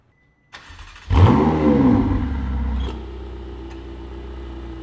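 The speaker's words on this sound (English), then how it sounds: "You can hear what a stock 488 sounds like." A stock Ferrari 488 starts up close by with a sharp cranking bark, then a loud rev that settles into a steady, lower idle rumble, with nobody talking.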